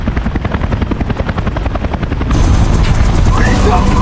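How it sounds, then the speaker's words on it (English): A helicopter circles nearby with a steady, loud rotor chop that pulses rhythmically, then swells into a denser, brighter roar partway through. "the helicopter circling nearby couldn't spot them"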